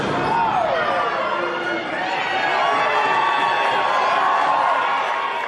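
Cheering builds from the crowd at a women's wrestling show while a commentator talks loudly over the top, the noise staying dense throughout.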